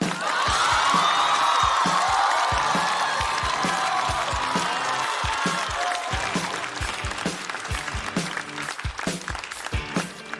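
A studio audience at a stand-up comedy show breaks into sustained clapping that stays full for several seconds, then thins into scattered claps and footsteps.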